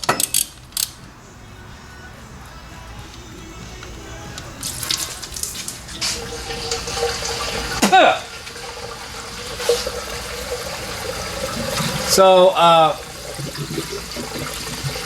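Water mixed with antifreeze pours from the oil drain of a 1979 AMC Spirit AMX, a close, steady splashing gush with a few louder surges and clanks, while someone says a word.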